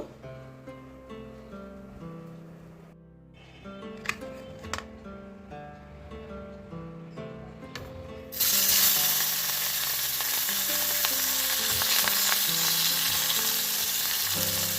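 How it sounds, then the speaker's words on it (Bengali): Quiet kitchen clatter gives way to a loud, steady sizzle of tangra fish frying in hot mustard oil that continues to the end. "পুরো মাছটাই আমি সর্ষের তেলে রান্না করব"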